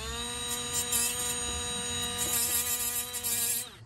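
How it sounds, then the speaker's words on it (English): A die grinder with a small sanding disc sanding paint off the metal of a first-generation Toyota 4Runner: a steady, high-pitched mechanical whine with a buzzing edge, close and continuous, cutting off just before the end. "I'm gonna take my die grinder with a little sanding disc"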